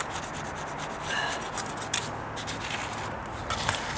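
Putty knife scraping old caulking off wooden deck stairs, a close, steady raspy rubbing with a few sharper scrapes, quiet and without speech.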